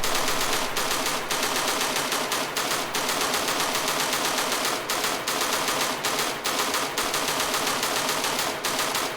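A weapon firing on semi-auto in the video game Angels Fall First: a loud, rapid, regular series of sharp shots, fired continuously close up, with brief gaps between short strings of fire.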